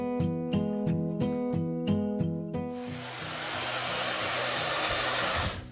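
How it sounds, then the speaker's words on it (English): A Dyson hair dryer fitted with a diffuser blows on curly hair, a loud steady whoosh with a whine that shifts in pitch as the airflow changes, heard close with no talking. "So this is the diffuser I'm going to be using to diffuse my hair."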